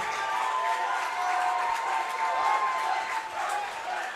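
Home crowd at a high school state semifinal baseball game in Kansas rising and cheering as their team nears the final out, a steady dense roar of voices and cheers holding loud and continuous throughout.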